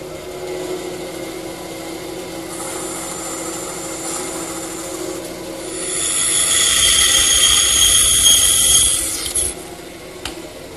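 A table saw cuts shoulder cuts on wooden stretchers, building from a low hum into a louder, rasping whine through the wood for a few seconds before spinning down.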